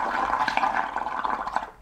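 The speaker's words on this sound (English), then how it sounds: "you all blow into your bubble mixture, loads of bubbles are gonna pop out of the bubble mixture" Someone blows through a straw into a cup of bubble mixture, making a continuous close bubbling, gurgling burble that fades out at the end.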